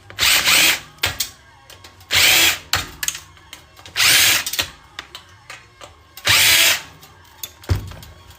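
Power drill backing screws out of a hard drive during e-waste scrapping: four loud, close whirring bursts with short pauses, broken by clicks and handling clatter between runs.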